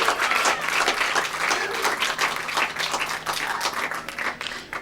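Audience applause during a spoken-word literary event, a steady wash of many hands clapping for nearly five seconds, dense and fairly loud with no pauses.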